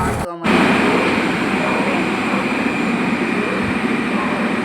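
Steady broadband rumble of a moving train heard from inside the carriage, loud and continuous after a brief drop at the start, with no clear speech over it.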